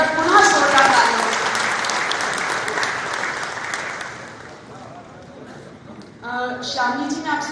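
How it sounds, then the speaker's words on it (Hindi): Loud, dense applause fills a Madhya Pradesh government ceremony hall at an awards event, swelling then thinning out before a voice begins speaking near the end. "बस पुनः जोरदार तालियां।"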